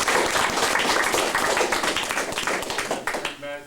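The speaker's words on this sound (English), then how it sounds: "I'd like to give every one of these one more big round of applause." A hall audience gives a big round of applause. Dense, loud clapping carries on throughout and thins out toward the end.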